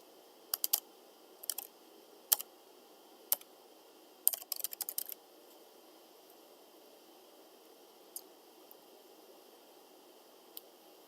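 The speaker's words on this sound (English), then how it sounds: "You can just type in an answer here." Computer keyboard typing an answer into a data entry form, a few quiet clusters of key clicks with pauses between them and sparse single taps later, close and faint in a quiet room.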